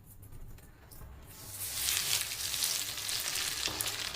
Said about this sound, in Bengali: দেখো ফ্রাই হতে শুরু করে দিয়েছে আমাদের ফিশ ফিঙ্গার।